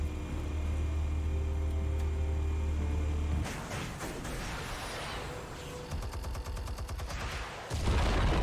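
Weapons fire in a Batman video game: a loud rumbling blast, then dense bursts of rapid gunfire and crackling impacts that grow into a heavy barrage near the end.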